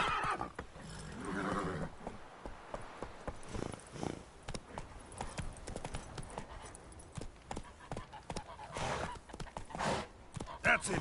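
Roach, a horse in The Witcher 3 video game, whinnies and trots with steady clip-clop hoofbeats, while a voice speaks briefly over the hooves.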